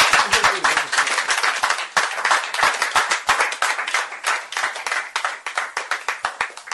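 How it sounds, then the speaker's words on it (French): Church congregation applauding steadily with dense, rapid clapping throughout, loud and close, a few louder individual claps standing out. "Applaudissons pour le Seigneur."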